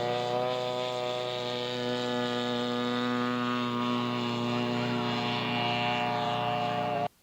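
A scale model Harvard airplane flying at an aircraft show in Idaho. Its engine gives a steady, loud droning whine with a rich buzzing tone that holds constant throughout, then cuts off abruptly at the end.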